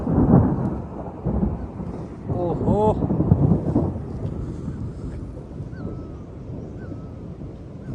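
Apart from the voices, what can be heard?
loud thunder during mountain monsoon ride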